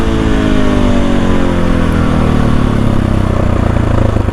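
A KTM 500 EXC-F motorcycle exhaust roars loudly and continuously, its engine pitch climbing steadily as it revs hard under acceleration.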